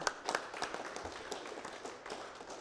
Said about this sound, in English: Big round of applause for Ram.